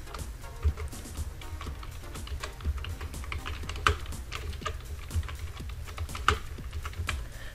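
Someone types steadily on a computer keyboard while entering text in MS Word 2007, producing rapid irregular clicks close by, with occasional louder keystrokes and no talking.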